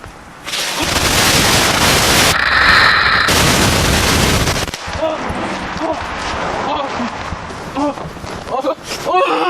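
A dense, roaring barrage of hundreds of firecrackers bursts continuously on a man's body for several seconds, then gives way to shouting and excited voices over scattered pops.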